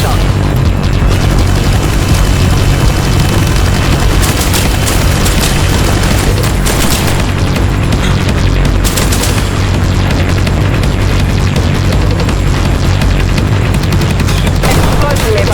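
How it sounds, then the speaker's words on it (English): Loud explosions and rapid gunfire in a shooter video game, dense continuous bursts and booms throughout with heavy low rumble and sharp cracks. "Explosion nearby."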